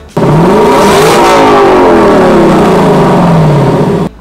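A Lexus LC 500 engine revs hard and alone, its pitch climbing, holding, then sweeping back down over about four seconds, loud and close with a throaty exhaust tone.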